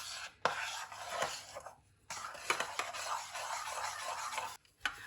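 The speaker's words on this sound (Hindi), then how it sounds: "इसको अच्छी तरह हमने मिक्स कर लेना है" Khoya is stirred and mixed for carrot halwa, giving close, steady scraping and rubbing with a few sharper clinks and brief pauses, with no talking.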